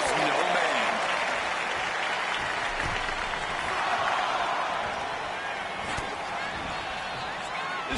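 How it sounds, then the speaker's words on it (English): Big crowd at a wrestling event cheering and applauding loudly, a dense continuous roar of claps and voices that stays full throughout with occasional thumps from the ring. "This crowd is thunderous right now."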